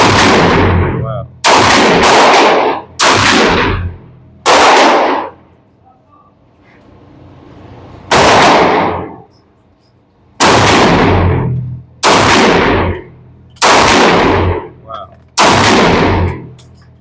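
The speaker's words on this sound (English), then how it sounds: "This bad boy doesn't move. It's loud as hell." Roughly ten loud gunshots from an RIA 22 TCM pistol at an outdoor range, fired singly and in quick pairs with short gaps between bursts, each blast sharp and close with a ringing tail.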